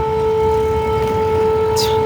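An air raid siren sounds over Ukraine on a sunny day, a steady, unbroken tone holding level through the whole stretch over faint outdoor background noise.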